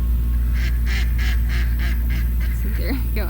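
Several geese honk in a repeated series of nasal calls on a homestead with donkeys and a rooster nearby, steady and fairly close over constant low rumbling background noise, with a few squeakier calls toward the end.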